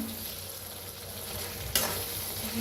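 A thick potato and curd curry simmers in a pan with a soft, close sizzle, and a single spoon scrape stands out midway through the steady bubbling hiss.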